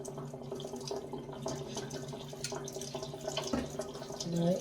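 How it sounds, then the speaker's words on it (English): Water drains from a hot water heater tank, running and trickling steadily close by with a faint hum beneath it and no talk. "now what you want to do, you want to remove the water from the tank"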